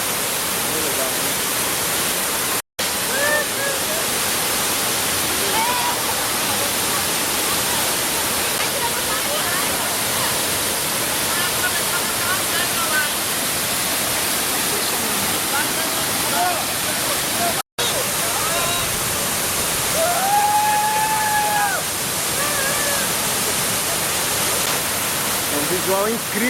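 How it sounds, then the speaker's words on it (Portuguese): Cachoeira dos Pretos waterfall in Joanópolis, Brazil, a steady, dense roar of falling water heard from close range throughout, with a voice speaking over it. "Estamos aqui na cascata ou Cachoeira dos Pretos"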